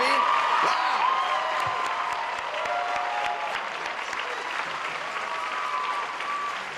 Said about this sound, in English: let us just give you a round of applause for your amazingness